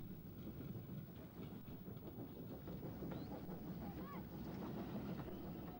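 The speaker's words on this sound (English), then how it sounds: "seeing an LMR electric train en route from Richmond to Broad Street" An LMR electric train travelling from Richmond to Broad Street rumbles past on London rails, a faint, continuous rolling clatter with no voices.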